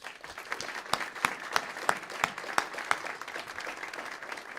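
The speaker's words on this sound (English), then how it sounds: "Can we give them a round of applause?" Scattered applause rises from a banquet audience honoring faculty, with distinct individual claps popping out in a loose rhythm over a softer crowd clapping bed, moderately quiet and without speech.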